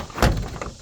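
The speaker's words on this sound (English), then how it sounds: "let's open the door first." A car door opens in a workshop with a single loud latch clunk, followed by a brief rattle and a softer knock, close by with no talking.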